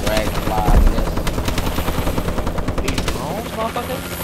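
Drones in Call of Duty Advanced Warfare survival mode: a steady mechanical whir under rapid bursts of automatic gunfire, with people talking over the game sounds.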